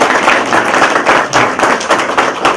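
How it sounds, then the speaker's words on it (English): Crowd applause at a ribbon cutting ceremony for a graduate jobs program, a steady dense clapping from many hands, fairly loud and continuous throughout with no talk over it. "Let's give them a round of applause."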